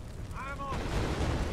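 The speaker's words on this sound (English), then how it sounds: "There's still explosions happening in the shed." A deep rumbling explosion bursts inside a shed in the firefighting video game Firefighting Simulator: The Squad, swelling loud and low right after a short spoken voice.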